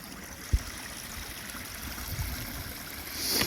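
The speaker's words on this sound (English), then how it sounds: "Just get that stream going all the way up there." A mountain stream trickles along the Appalachian Trail as a faint, steady wash of water. A soft thump and a few low bumps stand out near the start and the end.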